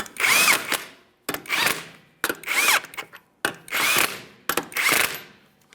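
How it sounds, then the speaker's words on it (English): A power tool snugs the lug nuts on an Acura MDX wheel in five separate whirring bursts, each lasting close to a second, with short pauses between them, loud and close. "Once you have all your lug nuts started on there, go ahead and snug them up."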